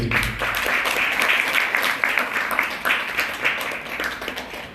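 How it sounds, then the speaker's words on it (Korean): Wedding guests applaud in an indoor hall, a dense, continuous burst of clapping that stays loud throughout and eases slightly toward the end. "여성분께 다시 한번 큰 박수 부탁드리겠습니다."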